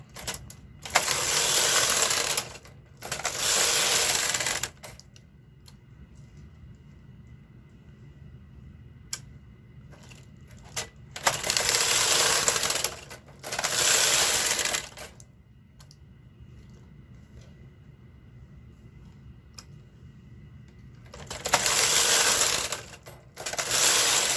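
A home knitting machine knitting jacquard rows without a ribber, the carriage sweeping across the needle bed in loud, rattling, clacking passes of a few seconds each, separated by quieter pauses, with no talk.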